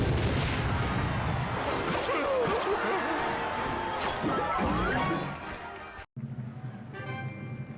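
A Rocket spell slams down during a video game battle in a Musketeer draft event, a loud crashing impact amid busy game effects, then a brief moment of silence before the game sounds resume.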